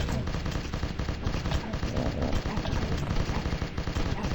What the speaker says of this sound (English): I'm not even dumping mags of ammunition, I'm dumping belts of it.